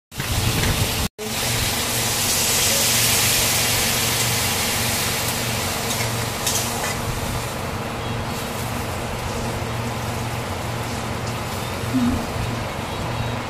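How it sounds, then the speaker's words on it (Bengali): Tomato and capsicum sauté in a pan for a Bengali fish curry, giving a steady, broadband sizzling hiss that holds nearly constant throughout, close and fairly loud, after a short break near the start. "টমেটো আর কাশ্মীরি মানে শিমলা মির্চ এটা বেশি কিন্তু আমি কষাবো না, সামান্য একটু কষিয়ে নেব"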